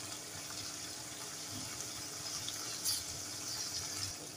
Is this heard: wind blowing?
no